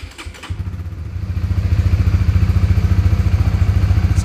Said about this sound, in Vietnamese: mình sẽ mở máy lên và nổ máy cho anh em xem là tiếng máy của nhớt này